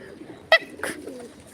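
A single short pigeon coo sounds nearby, followed by a softer rustle in a quiet setting.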